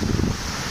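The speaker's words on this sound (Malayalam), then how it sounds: "നല്ല കാറ്റാണ്" Strong wind gusts at Athirappilly waterfalls on the Chalakudy river in Kerala, a loud, broad rushing roar close to the microphone with falling water underneath.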